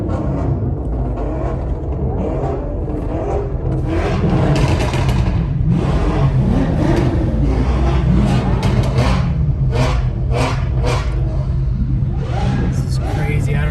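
A car's engine revs loudly during the SEMA Ignited parade, a steady close rumble with rising surges amid a noisy crowd and people talking.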